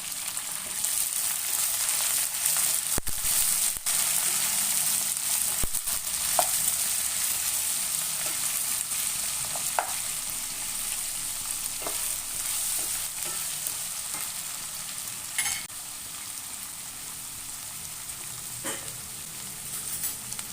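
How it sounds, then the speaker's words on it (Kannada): Onions and green chillies fry with chana dal in a pan for masala dosa, a steady close crackling sizzle with occasional stirring scrapes and clicks of a spoon against the pan. "ನಾನು ಏನು ಈರುಳ್ಳಿ ಹಸಿಮೆಣಸಿನ್ಕಾಯಿ ಎಲ್ಲ ತೊಗೊಂಡಿದ್ನಲ್ಲ ಇದಕ್ಕೆ ಸೇರಿಸಿದ್ದು ನಾನು ಸ್ವಲ್ಪ ಬೇಯೋವರೆಗೂ ಅದನ್ನು ಮಾಡ್ಕೊಳ್ಳೋಣ"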